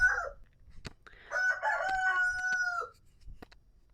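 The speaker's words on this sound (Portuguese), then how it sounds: "O galo quer aparecer hoje, gente, desculpa." A rooster crows once, close and loud, in one long, wavering cock-a-doodle-doo held for about a second and a half, with a few sharp clicks and a short cluck before and after.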